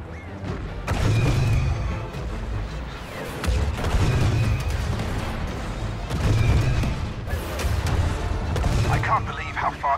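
Loud booming explosions and rumbling blasts erupt in repeated bursts as anti-air cannons are destroyed in Star Wars Battlefront 2, with a voice speaking over the noise.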